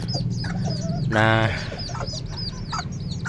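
Chickens settled in a free-range pen cluck steadily and close by, with a brief louder squawking burst in the middle; a short spoken word is heard.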